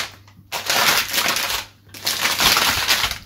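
Cardboard box of a complete Claymore manga set being pried open, two loud bursts of crackling, crunching cardboard and paper separated by a short pause, close up with no talk.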